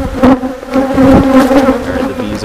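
Honey bees swarm close around a camera at an open hive during a weekly inspection, their steady, loud buzzing hum continuous and near, with individual bees swelling louder as they pass the lens.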